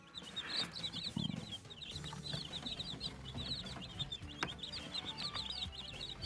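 High, rapid cheeping of many small chicks, a busy continuous chorus with soft scratching and pecking noises underneath, fairly quiet overall.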